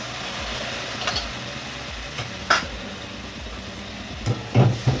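Spiced masala paste hits hot oil in a pan for a Bengali duck egg and cauliflower curry, giving a steady close hiss of sizzling with a few brief louder spatters and scrapes.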